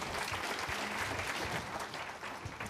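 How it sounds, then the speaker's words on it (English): Sustained applause from an audience, a dense wash of many hands clapping at moderate distance, steady throughout without talk. "So give everybody applause."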